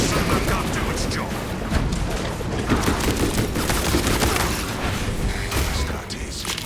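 Servo gun fire in the video game Space Marine 2 on PC, a dense continuous barrage of loud overlapping shots and booms with no pauses, filling the whole stretch.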